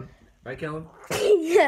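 A young boy sneezes once, loud and close, in a kitchen while making a sandwich; brief talk comes just before it.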